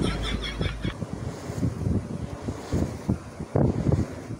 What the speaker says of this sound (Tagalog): Kaya pala ang lakas ng hangin dito eh.